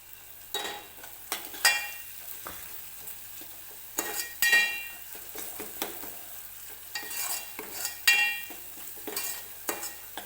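Ground masala with garlic sautés in oil in a pan, steady sizzling broken by repeated spatula scrapes and clinks in an uneven rhythm, close and alone without speech.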